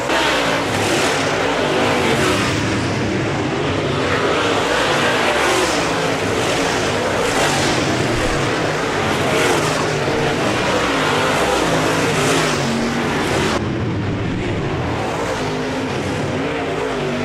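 Late model race cars roar around Casino Speedway in a 2018 race, a loud, continuous engine drone with surges and passes that never lets up.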